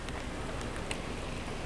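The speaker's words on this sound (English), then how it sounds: "Yes, it's raining" Steady rain falling outdoors on Remembrance Day near a river and an empty children's playground, a constant close hiss of drops with light wind noise and no voices.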